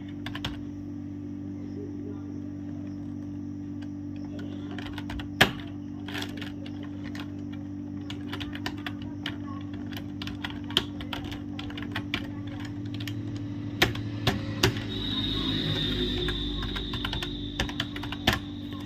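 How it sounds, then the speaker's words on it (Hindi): Someone types an email on a computer keyboard with quiet, irregular key clicks over a low steady hum. Occasional louder taps stand out, and a brief rustle comes near the end. "यहाँ पे मैंने ईमेल टाइप कर दिया।"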